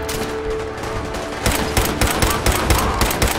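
Rapid bursts of automatic gunfire from a firefight in Fallout 4, loud and close, with clustered volleys growing denser in the second half over steady game ambience.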